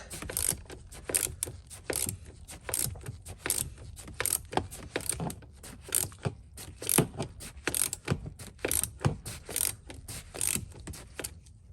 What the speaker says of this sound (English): that's your Torx 50 for the seatbelt anchor. Go ahead and loosen that.